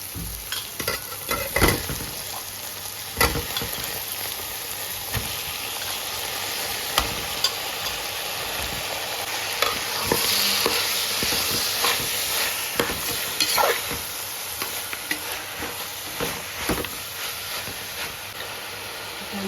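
Chicken pieces with curry leaves and chilli frying in a pan for a Mangalore-style chicken dish, a continuous sizzle broken by repeated scraping stirs and clanks of the spoon against the pan, close and busy.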